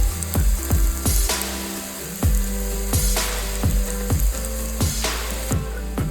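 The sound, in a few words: turmeric and spices frying in oil for crab curry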